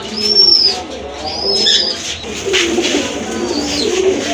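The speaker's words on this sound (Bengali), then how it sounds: "খুবই চমৎকার এক জোড়া কবুতর" A pair of pigeons at a bird sale in Gazipur coo softly at close range, their low calls repeating among light chirps and the occasional flutter of wings, with faint background noise throughout.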